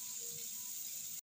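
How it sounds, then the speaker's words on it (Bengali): Water gushes in a steady close stream into a cooking pot of potato and papaya curry, a brief hissing pour that cuts off abruptly. "জল দিয়ে দেব"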